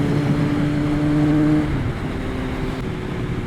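A 1999 Kawasaki ZRX1100 motorcycle engine runs rough after long storage, a steady droning rumble with uneven tone that drops slightly in pitch partway through, heard alone and close.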